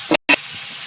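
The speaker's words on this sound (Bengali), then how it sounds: "আলু ভেজে নেব।" Potatoes frying in hot oil in a home kitchen pan, two short bursts of broadband sizzle split by a brief silence, then a quieter steady hiss.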